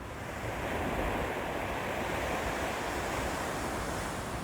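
Ocean waves wash onto a beach in a steady, loud, continuous roar, with wind noise buffeting the microphone throughout.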